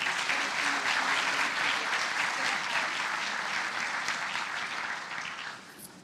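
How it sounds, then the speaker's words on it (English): Sustained applause from an awards ceremony audience honouring young award recipients, steady and dense throughout before tapering off in the final second. "Then again, a round of applause for these young men."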